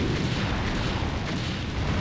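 Cannon fire in the Anno 1602 strategy game, a dense, sustained booming rumble of explosions filling the whole stretch at steady loudness with no talk.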